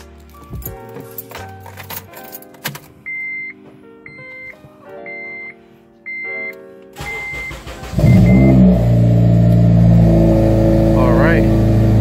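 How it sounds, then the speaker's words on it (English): A 2006 Honda Civic Si with a newly installed serpentine belt: dashboard warning chimes ring first, then the starter cranks and the engine catches into a loud, steady idle close by. "Alright, so let's go ahead and start it up now."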